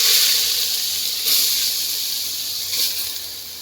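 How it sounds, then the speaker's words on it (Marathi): Grated raw mango sautés in hot ghee in a heated pot, giving off a steady, fairly loud hiss that swells briefly twice as it is stirred, with no voices. "त्यात आता आपण हा किस परतून घेणार आहोत."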